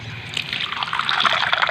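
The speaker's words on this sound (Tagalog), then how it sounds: "Lagyan natin ng konting tubig lang" Water trickling and splashing steadily into a pot of cooking pakbet, a continuous liquid pour that grows a little fuller toward the end.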